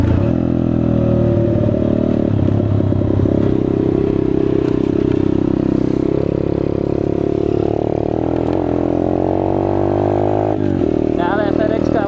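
A Chinese dirt bike engine drones steadily while being ridden, loud and close throughout, its pitch rising and falling slightly with throttle, and a voice talks over it.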